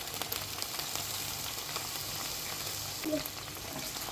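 Eggplant and tomato fry in a pan with a steady, close sizzle, and a spoon stirring through them adds soft scraping. Near the end a brief, slightly louder clatter rises above the sizzle.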